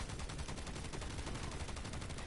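Rapid continuous automatic gunfire from floating guns in the Borderlands 3 video game, a dense loud burst of fast regular shots with no pauses and no talking.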